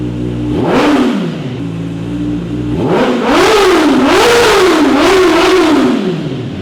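Kawasaki Ninja ZX sport bike fitted with a silencer revving up close and loud, one short rise and fall followed by a longer run of repeated swelling throttle blips.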